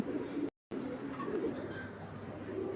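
Fancy pigeons on a breeder's farm coo faintly and continuously in the background, a low murmuring burble broken by a short dropout.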